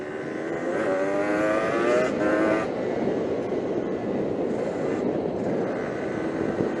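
Yamaha DT 125 enduro motorcycle engine running steadily while riding on a road in Italy, a loud continuous buzzing drone with rising and falling harmonics, close and constant throughout with wind noise.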